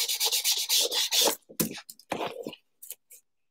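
Sandpaper rubbing close up: a quick run of rapid back-and-forth strokes, then slower, separate scraping passes that fade into silence.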